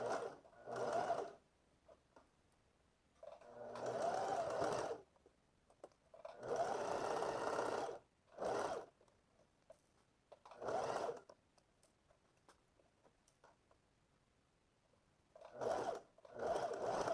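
Sewing machine stitching the side seam of pleated shorts along a half-centimetre marked line, running in several separate bursts of a second or two each with quiet pauses between.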